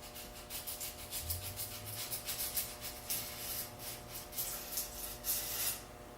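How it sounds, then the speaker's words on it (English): Sandpaper rubbed by hand across a lithography stone: a steady run of close, scratchy strokes in an even back-and-forth rhythm, with no voices. "I'm just going to take a simple piece of sandpaper and touch up that spot."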